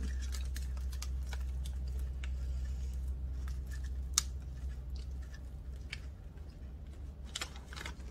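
Small scissors snipping through orchid roots while repotting a Paphiopedilum, giving several short, faint clicks and snips scattered over a steady low background hum, with no talking.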